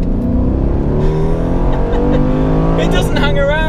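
Aston Martin DB11 Volante grand tourer driving and accelerating, a steady engine drone rising in pitch as it pulls, heard from inside the open car with a voice talking over it.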